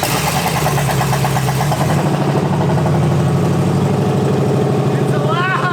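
The engine of an LS-swapped 4x4 van runs loud and steady after being jump-started with a borrowed battery, with people talking over the engine noise.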